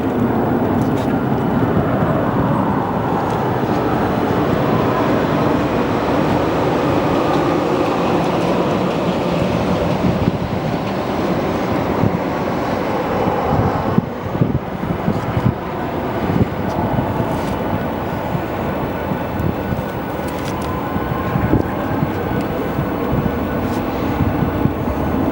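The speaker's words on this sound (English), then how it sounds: "Who doesn't love the sound of reverse thrusters? especially on an 80s bird." A 1980s airliner, recently transferred to FedEx, lands at Phoenix Sky Harbor Airport with its reverse thrusters engaged, a loud sustained roar with rumble and wind buffeting that swells midway before easing.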